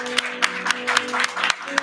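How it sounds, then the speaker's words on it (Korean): A church congregation claps in encouragement, with sharp, evenly spaced claps at close range over a brief stretch and a low hum beneath. "계속 녹슬지 말라고 격려의 박수"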